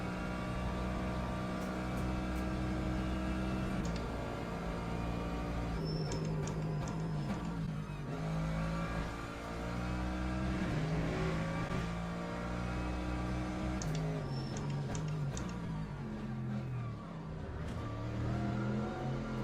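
Racing car engine in the Le Mans Ultimate sim, an LMGT3 machine, droning and revving steadily near and loud throughout, with pitch shifts and rising and falling harmonics as it spins out mid-lap.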